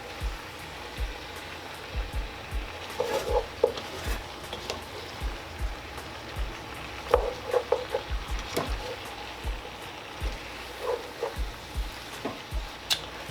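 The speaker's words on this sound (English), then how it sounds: "we kind of just want to uplift the onions and the bell peppers and the garlic at the bottom of this and kind of just bring it to the top" Cabbage with onions, bell peppers and garlic sizzling in a pot while being stirred, a steady soft frying hiss broken by scraping clinks and knocks of the spoon against the pot.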